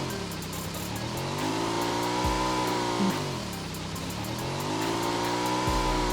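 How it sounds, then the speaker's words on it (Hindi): A Dacia car driving off in a video game: an engine drones and rises and falls through gear changes, with dull thumps, close and fairly loud, no talk. "डासिया लेकर निकल जाते हैं यहाँ से हम"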